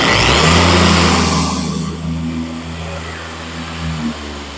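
A Walmart Platinum Series polisher runs on setting 3 with a steady motor whine that spins up loudly at first, then settles to a slightly lower, even hum close by.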